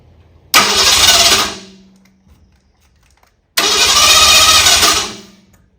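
A 1964 Ford Galaxie engine on a run stand cranking twice in short loud bursts, each roughly a second long, with a quiet pause between and no sustained running.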